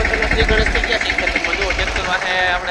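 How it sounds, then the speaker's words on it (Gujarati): A tractor drives past on a muddy village track, its steady knocking engine rumble close and loud beneath people talking. "કરડાટી જાય છે ટ્રેક્ટર"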